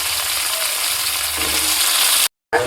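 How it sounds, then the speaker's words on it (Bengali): Potatoes and leafy greens stalks frying in oil, giving a loud, steady, close sizzle with a busy crackle and a brief total cutout near the end before the sizzle resumes. "তো এগুলো এবার আমি তেলের মধ্যে দিয়ে এগুলো ভেজে নিই"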